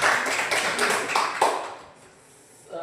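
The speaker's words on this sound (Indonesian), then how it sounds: "Tepuk tangan untuk kelompok" Short burst of classroom applause for a student group that has just presented, dense clapping that fades out after about two seconds before a voice begins.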